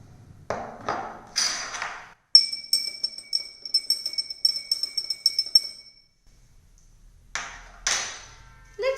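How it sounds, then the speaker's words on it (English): Salt is stirred into a glass of water with a metal spoon, giving a rapid series of sharp, ringing clinks against the glass. Some brief handling noises come before and after, heard up close. "Let's take salt and mix it with water."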